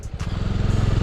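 A motorcycle engine putters close by with a rapid, even pulsing as the bike squeezes through a traffic jam on a road near Jaisalmer, Rajasthan, loud and steady for about a second.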